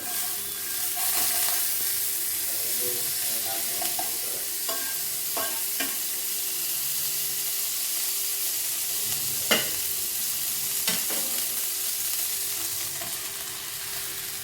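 Pav bread frying in butter in a hot pan for pav bhaji: a steady, broad sizzle throughout, broken by occasional scraping and tapping as the buns are moved and pressed, with no talk.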